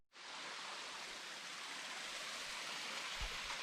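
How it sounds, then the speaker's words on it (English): Waterfall on the Oregon coast, a steady broadband rush of falling water that holds loud and unbroken from start to finish, with no voices. "Waterfall."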